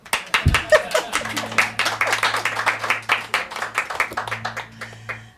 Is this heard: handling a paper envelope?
no